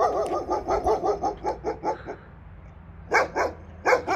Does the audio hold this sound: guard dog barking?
yes